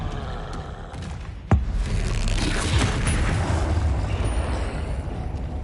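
A sudden magical boom from the Expelliarmus spell in Hogwarts Legacy cuts in once, followed by a sustained, roaring whoosh of effects that continues steadily to the end.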